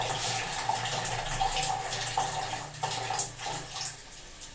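Water runs steadily from an instant electric water heater tap, a continuous gushing flow close by with a few brief splashes and shifts in the stream.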